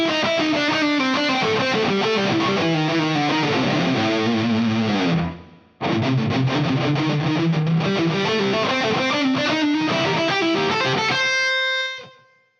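Distorted electric guitar runs descending triplet patterns through the A blues scale, a fast continuous cascade with a brief break midway, then a ringing final note that fades out.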